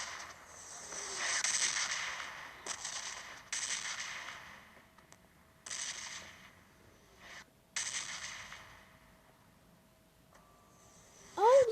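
Bursts of bomb explosions in PUBG Mobile Lite, several broad rumbling blasts spaced apart, fading between hits, followed by a brief electronic tone at the end.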